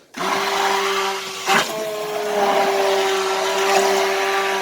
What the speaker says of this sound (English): doing it with an immersion blender makes it a lot faster